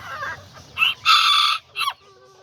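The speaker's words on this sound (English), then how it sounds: "That's the dad to that little rooster right here." A small Kikiriki rooster, one of the aztecas or seramas, crows close by in short loud bursts: two rising calls, then a brief clucking tail in a quiet setting.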